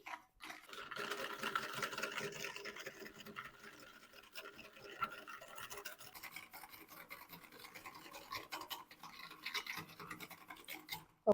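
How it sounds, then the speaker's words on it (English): Sugar and a pinch of salt being whisked gently into pineapple juice in a bowl for fruit curd: a steady, close scratchy swishing of the whisk that runs almost unbroken, with no talking. "To this I am going to add a pinch of salt as well. So let us whisk gently."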